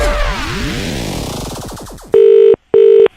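Telephone tones during a prank call: a warbling electronic sweep, then two steady beeps of about half a second each, separated by a short silence, loud and clean with no talk.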